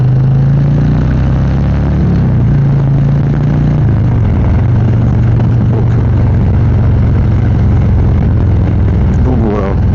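A Harley-Davidson Street Glide Special 120th anniversary motorcycle on a mountain lakeside road, fitted with an aftermarket exhaust. A loud, continuous low engine rumble comes from the exhaust while riding, with someone talking over it the whole time.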